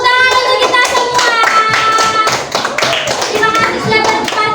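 A classroom group claps their hands together in a rhythmic, patterned clap, loud and close with sharp repeated taps, mixed with voices and a bright musical tone running over it.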